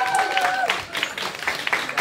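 An audience claps at a music and poetry evening in a club in Tver, with a burst of applause running through the whole moment, scattered claps and crowd noise, plus a brief sustained tone at the start.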